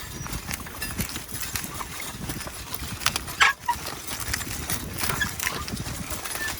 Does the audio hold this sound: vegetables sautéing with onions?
no